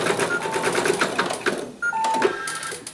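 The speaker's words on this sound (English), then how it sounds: "it's going to stitch an outline placement stitch for both" An embroidery machine stitches an outline placement stitch in green thread, running as a steady, close, rapid mechanical whir of needle strokes, with a brief dip before it resumes.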